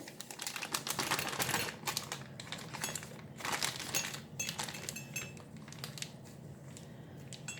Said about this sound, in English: take your baking sheet, line it with parchment paper